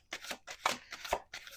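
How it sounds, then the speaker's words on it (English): Close, quick riffle shuffles of playing cards, several rapid papery bursts in a row with short gaps between. "1 more shuffle."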